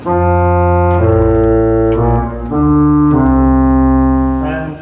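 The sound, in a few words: pipe organ 8-foot tromba stop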